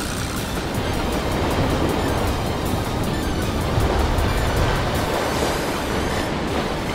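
Waves surging over a rocky shore at Niegaura in Mie Prefecture near low tide, a loud continuous roaring wash of surf with no pauses.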